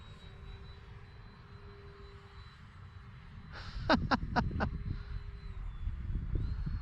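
An E-flite Habu STS electric RC model airplane on a 4S battery drones steadily overhead with a thin motor whine, growing slightly louder, with a quick burst of sharp clicks midway.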